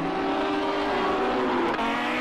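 Lamborghini Super Trofeo race cars in Project CARS 2 at the Red Bull Ring give a loud, continuous engine drone with tire noise, steady throughout with a brief dip near the end, no talk.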